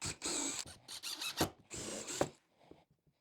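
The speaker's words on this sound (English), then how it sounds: "I'm just going to pre-drill this." A drill pre-drills holes in wood for a raised planter box, giving short close bursts of whirring and grinding with brief pauses between them.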